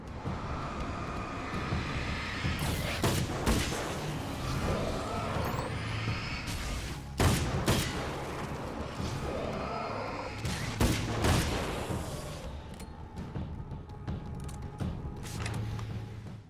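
Gunfire from Alan Wake's American Nightmare, with repeated loud shots and impact bursts in clusters. The bursts rise over a steady bed of game ambience and action noise.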